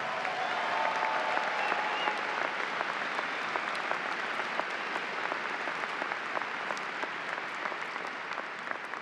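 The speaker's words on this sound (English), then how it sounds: "Let's have a round of applause for them." Sustained audience applause at the Siena College 2019 commencement ceremony, a broad, steady wash of many hands clapping in a large space, even and continuous with no talk.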